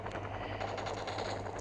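A video-game helicopter gives a faint, continuous rotor chop with rapid rhythmic pulses and no talk over it.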